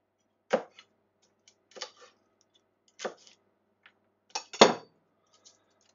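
Garlic cloves being peeled by hand, with a few sharp papery crackles and light taps spaced out over several seconds, close and otherwise quiet.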